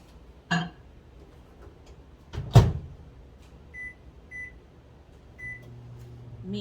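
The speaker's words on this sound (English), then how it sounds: "I'm going to melt it in the microwave." A microwave door clicks shut, then a steady low hum runs quietly while butter melts, punctuated by a few short beeps and faint ticking sounds.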